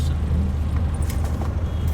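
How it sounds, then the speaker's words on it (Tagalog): Congested road traffic in a Philippine city, a dense low idling and engine rumble from surrounding vehicles, steady and fairly close, with faint background voices and small clanks. "Ano na nangyari dito? Sobrang traffic."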